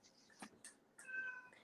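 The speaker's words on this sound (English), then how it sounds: "I hear a kitty cat." A house cat meows twice, close and fairly quiet. The second call is longer and rises in pitch, and a faint click sounds between them in an otherwise quiet room.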